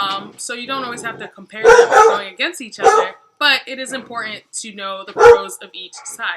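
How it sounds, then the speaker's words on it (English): Several dogs bark and yip in the background, sharp repeated bursts behind someone talking steadily in the foreground. "I'm sure you can hear my grumpy dogs barking in the back."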